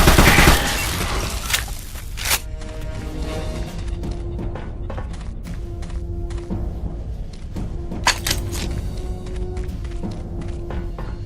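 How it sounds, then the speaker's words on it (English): Gunfire comes from an unmanned turret station in the Secret Service PC game, starting with a loud burst and followed by a long series of rapid shots and impacts over a steady background hum. "Fire from an unmanned turret station."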